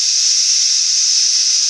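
A pressure cooker releases steam while cooking tomato chutney, giving a loud, steady, unbroken hiss that lasts the whole moment without pause.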